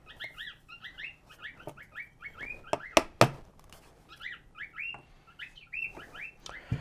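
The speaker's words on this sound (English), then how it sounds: "Now I've got both my birds singing in the background." Two pet birds trill and chirp in quick repeated bursts throughout, fairly close, with a couple of sharp knocks partway through.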